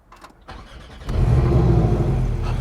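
A 2022 Porsche 718 Cayman T with sport exhaust cranks over with a brief whir, then fires up into a loud, close, steady idle rumble.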